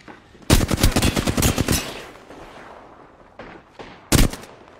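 Video game gunfire from a walljumping shooter match, where loud rapid bursts of shots land with a wet, fleshy hit quality, followed by a quieter lull and one more sharp burst near the end.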